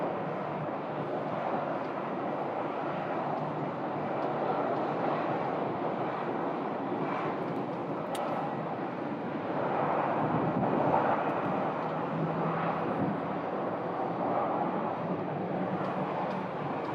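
A Beech 1900 turboprop at Phoenix Sky Harbor Airport gives off a steady, broadband engine roar, with wind buffeting the microphone and no voices over it.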